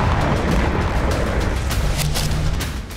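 A heavy explosion from a drone strike rumbles in a deep, loud, sustained boom that fills the whole moment and slowly tails off toward the end.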